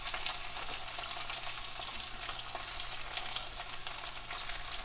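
Baked beans in tomato sauce are stirred in a pan, a steady soft sizzle with faint scraping, close and continuous with no talk.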